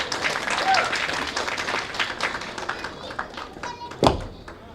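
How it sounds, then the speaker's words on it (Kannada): Loud applause from an audience at a film trailer launch press meet, a dense clatter of claps that gradually thins and fades, with scattered crowd noise and one sharp thump near the end. "ಒಂದು ಜೋರಾದ ಚಪ್ಪಾಳೆ ಬರಲಿ"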